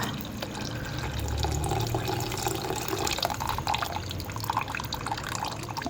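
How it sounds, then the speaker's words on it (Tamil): Tamarind water being poured into a pot of curry, a continuous soft splashing and trickling of liquid close by with no talk. "நேரத்தில் இந்த புளி கரைச்சல் வச்சுருக்கோம் பாருங்கள், இதை நல்லா அதில் இப்படி ஊற்றணும்"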